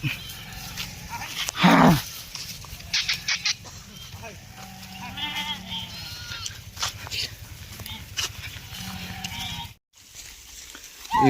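Sheep and goats bleat close by, one loud cry early on and several shorter calls scattered afterward, over steady outdoor background and occasional voices.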